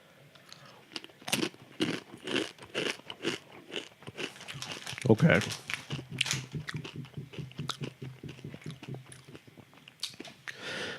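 Close, crisp crunching of spicy rolled Takis Fuego corn chips being bitten and chewed, a dense run of irregular crackly bites with a brief spoken word partway through.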